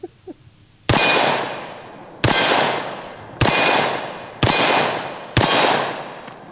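Five loud, sharp gunshots from a double-barrel 1911 pistol firing two .45 ACP rounds at once, spaced about a second apart, each followed by a ringing metallic decay outdoors.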